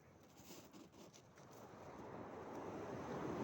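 Sea waves on the coast at Dinggalan, Aurora, a soft, faint wash of surf that swells gradually, mixed with wind rush against the microphone, no talk.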